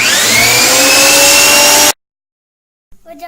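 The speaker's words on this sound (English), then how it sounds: "Now we use a planer to make the log flat." A power planer roars loudly at close range as it flattens a wooden log, a steady high-pitched whine that cuts off abruptly, followed by silence and a faint bump.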